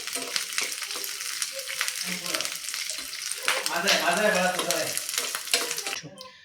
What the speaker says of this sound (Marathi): छानपैकी आपण तेलावरती भाजून घेऊया